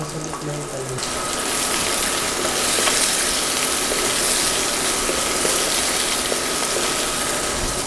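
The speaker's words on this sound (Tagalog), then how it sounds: "igigisa ko na yung ating sibuyas" Onions sauté in oil in a pan, giving a loud, steady hiss that rises after a moment and continues without a break, close and dense.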